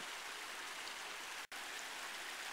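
A shallow creek runs across a dirt road in Ramsey Canyon, making a steady, even hiss of flowing water with one brief drop-out partway through and no voices.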